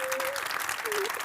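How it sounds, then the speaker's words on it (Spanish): Brief audience clapping for writer Enrique Aparicio at his novel's launch at the Academia, a steady patter of hands under a speaking voice. "aplaudirle porque esto es una fiesta"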